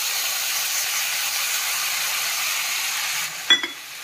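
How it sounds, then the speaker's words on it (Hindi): Browned onions with spices frying in a pan for a besan sabzi give a steady hiss and sizzle throughout, ending in a short, louder burst of spattering. "जब ये प्याज भून जाएगा ना, प्याज ब्राउन हो गया ना, अब इसमें मैं मसाला डालूंगी"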